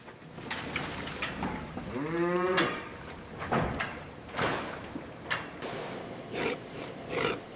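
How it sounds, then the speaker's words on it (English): Angus cattle in a holding area at a hide processing facility give one long, rising moo amid clanging metal gates and steady industrial background noise. "Cattle move from open yards into the facility."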